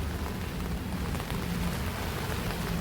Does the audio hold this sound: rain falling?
yes